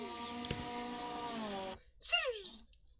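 A voice hums a steady engine-like drone, then breaks off and gives a short rising-and-falling vocal whine, imitating a race car downshifting.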